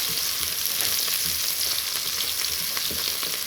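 Onions sizzle and fry in a hot pan for chicken chop suey, a steady close crackle of hot oil with occasional stirring scrapes and no voices.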